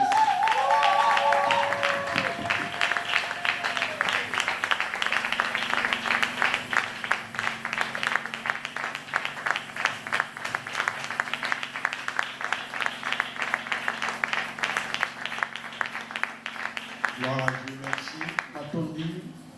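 A church congregation applauds at a Sunday service, sustained dense clapping from a large crowd throughout, loud and close, with a voice speaking over it at the start and some music and voices near the end.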